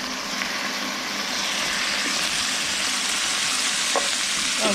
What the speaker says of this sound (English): I'm gonna put the vegetables and the seasonings in